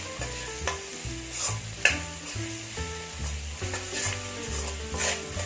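Masala for mutton sukka stirred and sautéed in a pan over medium flame, with soft sizzling under repeated scraping and stirring strokes, alone and fairly quiet.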